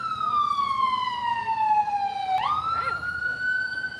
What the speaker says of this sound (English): this is 5 police cars and damn 2 ambulances